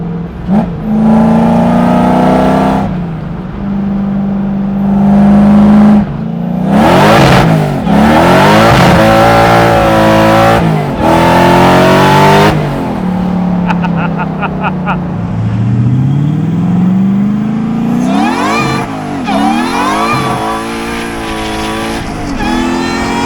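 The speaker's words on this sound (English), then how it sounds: "That's what I want from a supercharged drift truck." A supercharged drift truck engine revs hard and loud from close by, climbing and falling in repeated sweeps with brief lifts between pulls and a rising whine, continuous for over twenty seconds.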